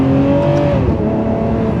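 Ferrari 599 GTO with 661 horsepower pulling hard under acceleration, its engine note rising then shifting as it changes gear, loud and close from inside the cabin with heavy road rumble beneath.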